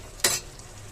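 Ginger stirred in a frying pan, one short scraping swish of the spoon over a faint ongoing sizzle, no voices.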